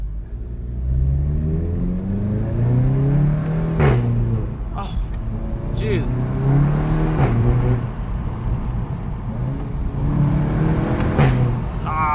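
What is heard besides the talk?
2016 VW Golf GTI Clubsport engine accelerating at full throttle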